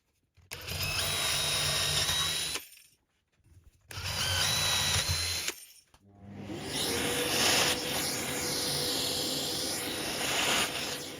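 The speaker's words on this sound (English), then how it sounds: "once done and the glue dry, I can drill them out" A power drill bores out glued wooden blocks in a workshop router lift setup, with two loud bursts of whirring separated by short pauses, then a longer continuous run under load, close and alone.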